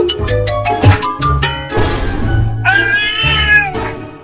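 Several loud, close cartoon cat meows, drawn-out and whiny, one rising into a strained yowl, with short gaps between cries.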